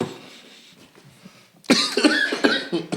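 After a quiet moment, someone nearby breaks into a fit of loud, harsh coughing, several hacks in quick succession.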